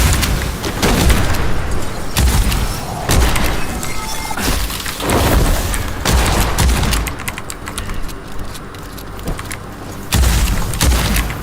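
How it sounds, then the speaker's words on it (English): Rapid explosive blasts from a stake gun in the dark fantasy shooter Witchfire, a loud, dense run of booming shots and impacts in irregular bursts with brief pauses between them. "I do like that explosion little effect on this stake gun, that's quite nice."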